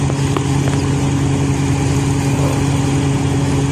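Large passenger ship MV Orion Star's engines running, a steady low drone with strong hum bands, continuous and fairly loud, no voices.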